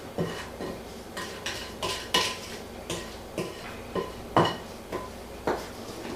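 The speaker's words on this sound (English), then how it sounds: "I'm going to scrape down the side of the bowl" A spatula scrapes and knocks around a mixing bowl of pumpkin crumb cake muffin batter in a series of separate strokes, about a dozen soft scrapes and taps in an even rhythm, fairly quiet and close, with no voices.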